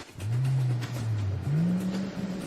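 A vehicle engine revs hard while drifting across icy tundra, with two close, loud rising whines, the second climbing higher than the first.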